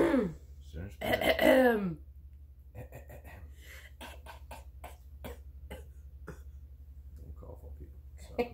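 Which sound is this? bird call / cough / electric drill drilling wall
cough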